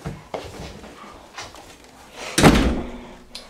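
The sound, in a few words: door being closed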